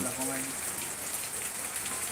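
Rain pours steadily during a football game in the rain, an even hissing wash that holds throughout, with a brief voice heard near the start.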